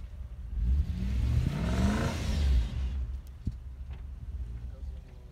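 A Toyota Land Cruiser 80 with a 4.3 engine revs hard while climbing a mountain track in Kazakhstan, a rising then falling engine roar that fades into rough rumbling, with voices nearby.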